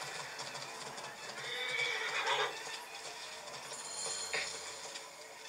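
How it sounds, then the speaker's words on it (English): A horse neighs twice in Assassin's Creed Origins, a faint whinny followed by a shorter second call, with light hoof clatter in the background. "The horse is back."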